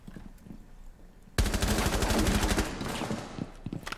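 Rapid automatic gunfire bursts in a Rainbow Six Siege ranked match, a dense rattling volley starting abruptly, loud and close, then trailing into scattered shots.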